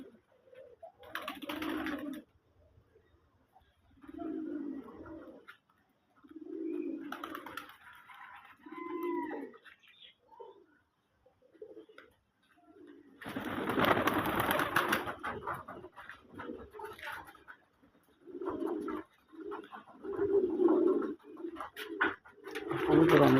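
Domestic local pigeons coo close by in repeated low, soft bursts with short pauses, and a louder rustling stretch midway.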